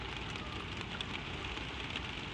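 Gentle rain falls in a steady, soft hiss with faint scattered drops, continuous and even throughout with no voices.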